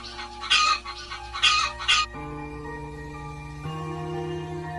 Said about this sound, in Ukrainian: Що це за пташка, діти? Так, це курка.